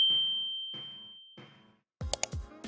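A bright notification bell ding rings out as a short sound effect after a fading tone pattern, followed by a cluster of sharp metallic pings and clicks near the end.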